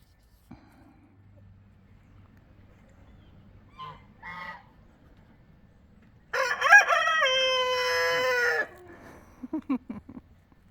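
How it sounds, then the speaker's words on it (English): A rooster crows once, a clear drawn-out call at moderate distance, after a couple of short clucks; quiet background otherwise, with faint sounds at the end. "I'm sure he's been crowing much longer than just right now"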